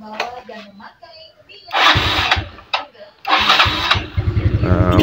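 A Yamaha Mio Sporty carburetor scooter with a double-starter problem cranks on its electric starter, sputters, then catches and revs, loud and close, with a few spoken words early on.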